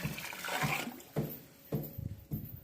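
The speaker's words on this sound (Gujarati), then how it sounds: "અત્યારે આપણે પાણી ચાલુ કરી દીધું છે એમાં" Water gushes into a freshly cleaned, lime-washed livestock water tank on a farm, arriving in repeated splashing surges about every half second, close by with no talking.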